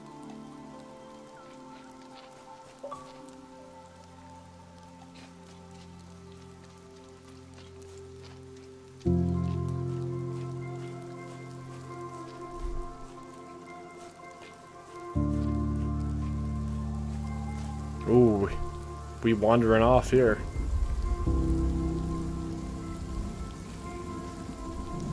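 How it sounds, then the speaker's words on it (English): Steady rain patters throughout with low rumbles of thunder rolling in, under soft background music and a brief spoken line, in the video game The Wild at Heart. "The sound of the rain and the thunder."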